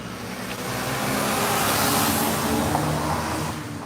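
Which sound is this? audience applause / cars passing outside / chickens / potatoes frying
cars passing outside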